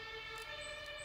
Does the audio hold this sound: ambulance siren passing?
yes